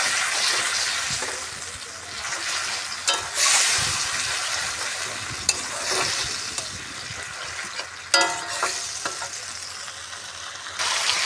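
Curry sautéing in a pan with a little water added, uneven bursts of sizzling and bubbling mixed with clatter of stirring and a few sharp knocks, close and moderately loud.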